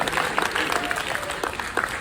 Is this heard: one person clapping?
yes